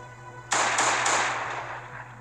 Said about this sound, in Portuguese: a Glock dá pouquinho tiro, é tipo assim, tira 20 só